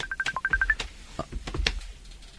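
A cellphone sounds for an incoming video call with a rapid series of short electronic tones, followed by a few softer clicks and beeps nearby.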